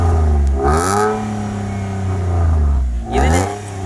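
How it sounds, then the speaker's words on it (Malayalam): Maruti WagonR fitted with an aftermarket Valtronic exhaust system revs up close by. The engine climbs in pitch, holds a throaty drone, then blips again near the end. The exhaust note is loud and clear with no talking. "വണ്ടിയുടെ എക്സോസ്റ്റ് നോട്ട് ഒന്ന് ഏൽപ്പിച്ച് തരാം."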